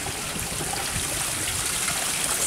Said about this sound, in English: Some waterfall.